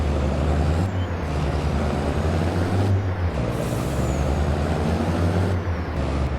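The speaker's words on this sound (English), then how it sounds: "You can hear it shift clearly." Heavy truck mod in Farming Simulator 22 running steadily with a deep engine drone, gear changes marked by brief dips and hisses near the first, third and sixth seconds; loud and close, with no talking.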